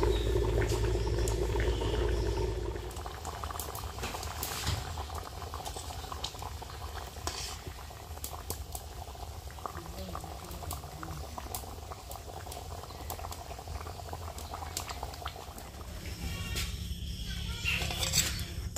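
Rice boiling steadily in a pot on a home stove, a continuous bubbling roll with occasional small clinks and stirring knocks, heavier at the start and close by throughout.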